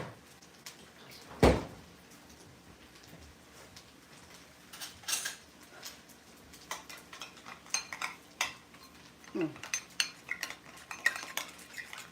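A spoon clinks and scrapes in a bowl while chili sauce and hoisin sauce are blended together, with a sharp knock near the start and scattered soft clatters throughout, quiet and close, no talking.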